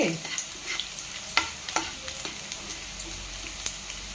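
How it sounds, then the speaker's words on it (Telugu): Finely chopped garlic frying in hot oil for veg manchurian, a steady close sizzle with light spatula taps and scrapes scattered throughout. "సన్నగా తరిగి పెట్టుకున్న వెల్లుల్లి ఇవ్వాలి ఇలాగ బాగా ఏగనిచ్చేసి"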